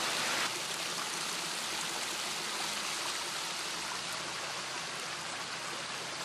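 Water running in a town fountain at Rindermarkt in Munich, a constant, even splashing rush that stays fairly soft and unbroken throughout, with no voices.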